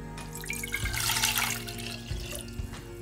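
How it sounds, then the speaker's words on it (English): Water poured into a saucepan for cooking pasta, a steady splashing pour of moderate loudness with a couple of low thumps, heard alone without talk. "For that we'll add some water in it."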